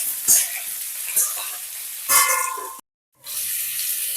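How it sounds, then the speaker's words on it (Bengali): Mixed vegetables, yardlong beans, pointed gourd, ridge gourd and eggplant, frying with a loud steady sizzle in a pan while being stirred, a few scraping knocks over the hiss before it cuts off briefly and resumes. "এরপর একটু নাড়াচাড়া করে নেব।"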